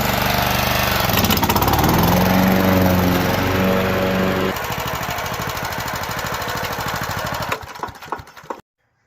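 A cheap, revived Honda self-propelled lawn mower runs loud and close, its small engine chugging steadily, then the note shifts and sputters before cutting off near the end.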